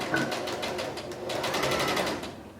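A sewing machine stitches a seam on a fabric mask, its needle hammering in a fast, regular rhythm of close clicks that runs almost continuously, with a brief slowdown midway.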